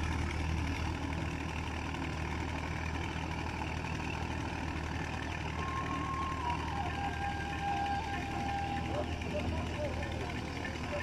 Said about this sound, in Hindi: दो हजार 2003 का मॉडल है ट्रैक्टर।